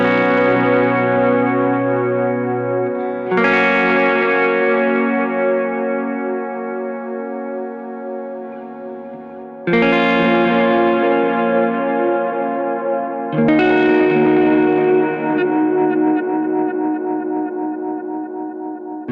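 Sustained guitar chords ring out one after another through a delay pedal set to quarter and dotted eighth repeats, each trailing into shimmering repeated echoes that blend into a thick, lingering wash.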